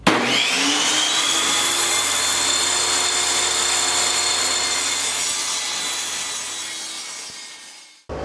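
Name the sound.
power saw ripping wooden boards into 5.5-inch strips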